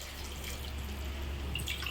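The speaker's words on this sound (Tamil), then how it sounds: "அதனால் இப்போ நான் 5 டம்ளர் தண்ணி ஊற்றிக்கிறேன்" Water is poured into a cooking pot for vegetable pulao, a steady splashing, trickling stream heard up close that runs unbroken for two seconds.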